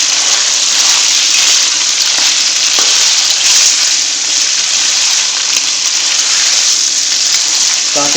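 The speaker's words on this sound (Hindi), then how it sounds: "ताकि जो लहसुन और अदरक है ना हमारा इसमें से अच्छे से फ्राई हो जाए" Ginger garlic paste sizzling in hot oil with chicken in a karahi, a steady loud hiss and crackle with occasional stirring scrapes, close up and without speech.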